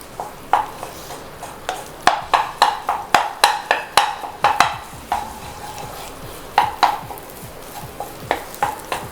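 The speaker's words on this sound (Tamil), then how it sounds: "எக்ஸை போட்டு நல்லா ரைஸோடையும் முட்டையோடையும் நல்லா மிக்ஸ் பண்ணிடுவோம்" A metal spatula scrapes and clanks against a hot wok as fried eggs are stirred into rice over high flame. The quick rhythmic strikes come in bursts under a steady sizzle, close and fairly loud.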